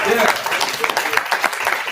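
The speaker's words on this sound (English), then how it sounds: "give another round of applause" Audience at a ribbon-cutting ceremony for a camp at SC State breaking into a burst of clapping, moderately loud and brief, mixed with a speaker's voice.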